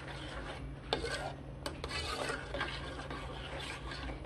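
Salt being stirred into a heating creme brulee mixture in a pot, a soft scraping and rubbing of the spoon against the pan with a few sharper knocks, faint and close.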